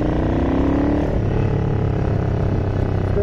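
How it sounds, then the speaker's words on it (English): A Ducati 900SS bevel-drive motorcycle engine revs hard at heavy throttle, its pitch climbing in a loud, close, raspy wail before settling into a steady high roar. "I'm gonna give it a hard throttle here."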